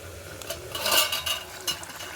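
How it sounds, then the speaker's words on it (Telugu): Broad bubbling and stirring noise of a curry simmering in a pot, likely a broad bean (chikkudukaya) curry in a home kitchen, steady and moderately close, with a brief louder scrape or clink near the middle and no talk. "కూర కూడా ఉడుకుతుంది చూడండి"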